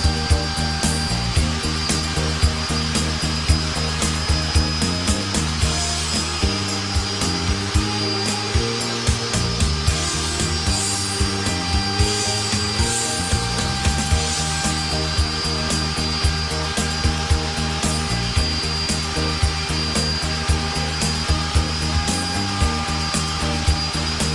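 Router cutting wood on a pantograph copier, a steady high whine with a grinding, rubbing cut that holds for the whole stretch, loud and close, with a low pulsing drone beneath and no talk.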